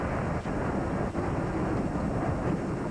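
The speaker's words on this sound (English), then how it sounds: "But with the spring comes thunderstorms and their own severe weather." Thunder from a spring thunderstorm, a steady deep roaring rumble that holds for the whole stretch with a couple of faint cracks inside it.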